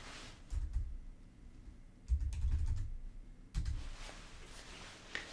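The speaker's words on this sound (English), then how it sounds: "If we type in a keyword," Bursts of typing on a computer keyboard while entering a search keyword, three clusters of quick, close key clicks separated by brief pauses, no voices.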